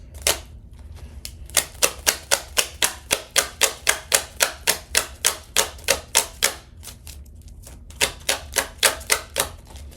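Tarot cards are shuffled in quick, even rhythmic slaps and clicks, close and crisp, repeating steadily with a brief pause partway through and no talking.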